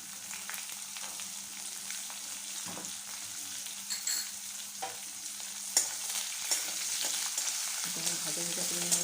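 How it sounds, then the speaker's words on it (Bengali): Boiled chickpeas, soaked overnight, fry quietly in a pan, giving a soft, steady sizzle broken by a series of sharp scrapes and clatters as they are stirred. No talking. "ভাজা ভাজা করে নেব একটু।"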